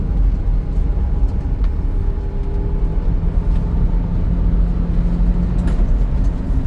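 A Subaru Sambar kei truck's engine drones steadily as it climbs a hill in fifth gear at about 70 km/h with the air conditioning running, a continuous low in-cabin hum with faint tonal whine and no talk.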